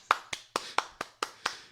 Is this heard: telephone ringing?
no